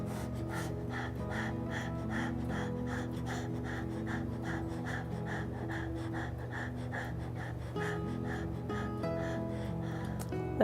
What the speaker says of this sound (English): We take 25 quick breaths so we can warm up our stomach, okay?